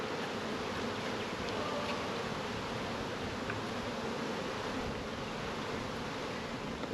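Honey bees buzz steadily in an open hive during a beekeeping training session, a dense continuous drone held at a constant level for the whole stretch with no talk over it.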